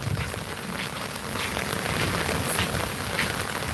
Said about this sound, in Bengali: আমাদের সকাল থেকে অনেক বৃষ্টি হচ্ছে